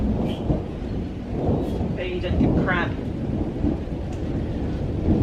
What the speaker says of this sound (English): Oh, look at that thunder.